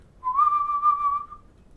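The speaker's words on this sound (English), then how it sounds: "That noise right there is actually just me whistling into my phone." A human whistle sampled on a phone in the GarageBand app and pitched down sounds as one clear, sustained, slightly wavering tone, close and alone, that starts and fades out within about a second.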